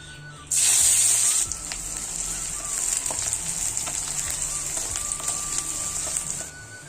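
Mixed leafy greens hit a hot pan and sizzle loudly in a sharp burst, then settle into a steady frying hiss that runs for several seconds before cutting off.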